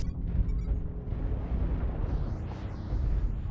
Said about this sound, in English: laying in an airstrike, guys